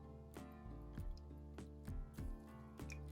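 Homemade flower ink pours and drips in a series of soft, wet drops at an uneven rhythm, quiet and close, with no voices.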